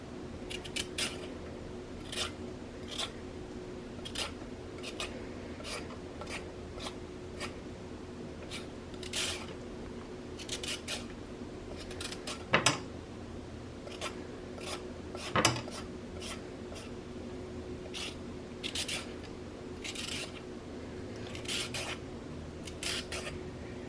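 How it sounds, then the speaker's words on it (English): A carrot is peeled at close range in a quiet kitchen, with quick repeated rasping scrapes in an uneven rhythm over a faint background hum and an occasional soft knock. "So first I'm going to peel the carrot"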